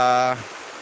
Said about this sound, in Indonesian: Jadi kami informasikan sungai ini adalah Sungai Belawan.